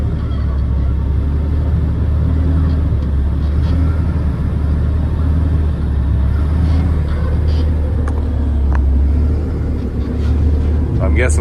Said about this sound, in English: he's now loading the front of the truck